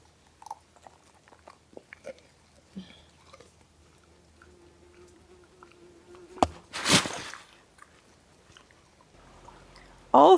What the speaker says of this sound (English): as I bring out any treats or food for Frank, 2 bees show up. There's always 2 of them.